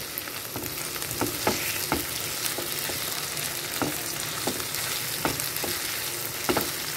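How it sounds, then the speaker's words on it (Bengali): Onion and potato pieces fry in a pan with a pinch of salt, giving a steady close sizzle broken by sharp scraping clicks of a stirring utensil at irregular intervals. "দেখো পেঁয়াজটা আর আলুটা দুটোই একটুখানি ভাজা হয়ে এসছে"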